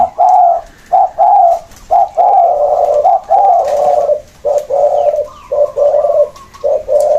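Pigeons cooing repeatedly in a series of low, throaty bursts with short pauses between, loud and close, with faint chirps in the background.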